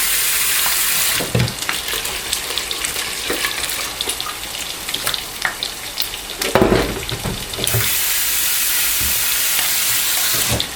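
Water from a tap runs over rice in a metal strainer, a loud steady rush with brief pauses and rattling splashes as the grains are rinsed.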